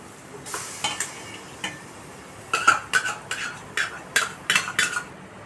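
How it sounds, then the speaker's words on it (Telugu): A ladle stirs egg dum biryani ingredients in a pot, giving a run of sharp metallic clinks and scrapes, sparse at first and then quicker and louder in the second half, with no talking. "అన్నీ వేసేసుకున్న తర్వాత ఒకసారి గరిటతో తిప్పుకుందామండి"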